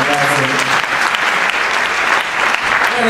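Loud, close applause from a theatre audience at a Tazenda event presentation, dense and continuous for the whole stretch, with a faint tonal murmur of voices underneath at the start.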